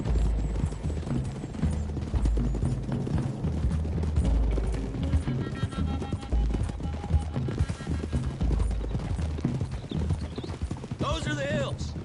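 Horses' hooves clip-clopping in Red Dead Redemption 2, a steady rhythmic trot of several riders close by, running beneath continuous male dialogue with a brief whinny near the end.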